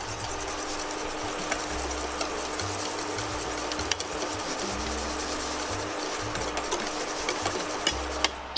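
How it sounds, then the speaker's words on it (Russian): Fruit puree with pectin and sugar whisked quickly in a pot, a continuous close scraping and swishing with a faint steady hum underneath and occasional clicks, no voices. "Мы сюда добавляем и быстро активно перемешиваем венчиком."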